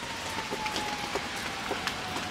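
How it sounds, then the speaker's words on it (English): Icy tree branches clacking and rustling against each other in the wind during a winter power outage, a steady hiss of faint crackles with scattered sharper clicks, continuous and fairly quiet, with no voices. "That rustling sound you're hearing is all the icy tree branches clacking against each other in the wind."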